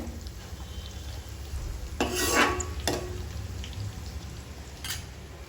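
Spices for mutton pickle sizzle softly in a pan while a spoon scrapes and stirs in a few short bursts, the loudest stroke near the middle.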